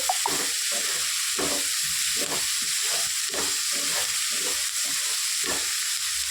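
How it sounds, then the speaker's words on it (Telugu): Onions fry with a spoonful of salt in a pan, making a continuous close hiss and sizzle broken by regular, rhythmic scraping strokes of stirring. "ఉల్లిపాయలు తొందరగా వేయడానికి సాల్ట్ వేసి తీసుకున్నాము."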